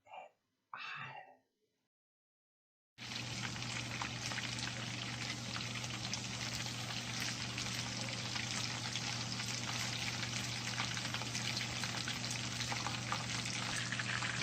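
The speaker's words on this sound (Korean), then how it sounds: "게다리 튀김을 빼고 같은 방식으로 새우도 튀길게요" A brief murmur of voices gives way to a loud, constant crackling sizzle of shrimp deep frying in hot oil, close and unbroken.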